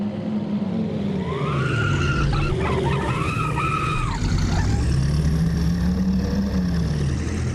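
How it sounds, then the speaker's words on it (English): Race car in a racing video game spinning out, tyres skidding and squealing in sweeping pitch bends over a constant engine drone, moderately loud with no talk. "the 2 came together, resulting in a spin for Oswald"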